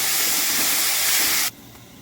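Tomatoes frying in a pan for a dhaba-style aloo matar curry, a loud, steady close hiss of sizzling that cuts off abruptly near the end, leaving quiet background, with no talk.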